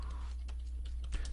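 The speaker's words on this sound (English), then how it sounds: "Typing." Computer keyboard typing during a wrestling podcast, faint scattered key clicks in an irregular patter under a low steady hum, no voices.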